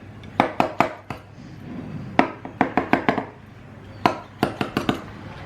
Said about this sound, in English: Now what I'm going to do is just chop around